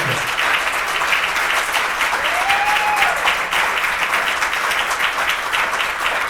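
A crowd at a motivational speech claps loudly and continuously, a thick, even roar of many hands at close range with no pause across several seconds.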